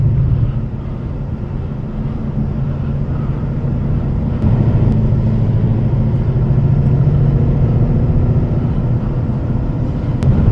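Ford Mustang Shelby GT500 with its 5.2 liter Predator engine on the move, a loud, steady low drone heard from inside the car with continuous road rumble and no talking.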